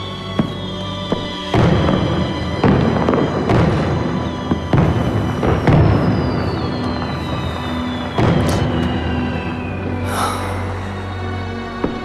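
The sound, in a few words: fireworks exploding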